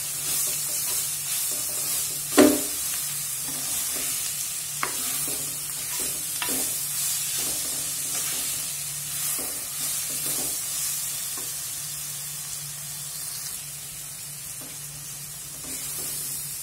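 Onion, garlic, green chili and crushed ginger fry in hot oil for a fish curry, giving a steady sizzle broken by repeated spatula scrapes and taps against the pan.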